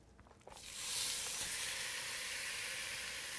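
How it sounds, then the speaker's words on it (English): Ground turkey hits a hot Dutch oven over medium heat and breaks into a loud, steady sizzle that swells after a brief quiet start and holds as a broad close hiss. "we're going to go ahead and begin browning off our turkey"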